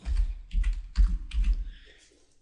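Computer mouse clicks at a desk while an email program is worked, a handful of soft quick taps in short clusters, close and fairly quiet, with no talking.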